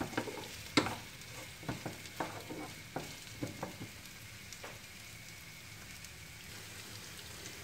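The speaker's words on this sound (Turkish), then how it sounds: "Birlikte soteliyoruz." Red and green peppers sizzling and frying in a pan, with scattered clicks and scrapes of stirring over a steady crackle.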